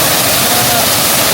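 A waterfall in Japan, its water falling from high above, pours in a steady, loud, unbroken broadband rush that fills the whole moment with no pauses.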